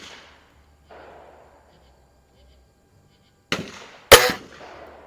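An Anschutz model 335 .177 spring air rifle firing at an outdoor range, a sharp crack followed moments later by a louder, crisp pop, close and loud after a stretch of near silence.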